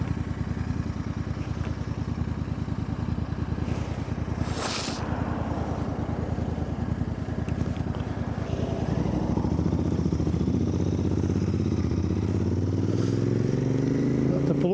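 Honda Interceptor motorcycle on the move, its engine drone steady under heavy wind rush, then rising in pitch as the bike accelerates near the end.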